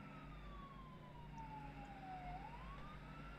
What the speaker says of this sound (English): Sirens? They're definitely sirens.